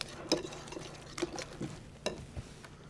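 Spaghetti pie mixture with parsley being stirred in a bowl, a quiet scraping and clinking of a utensil against the bowl in several separate strokes, soft and close with no talk.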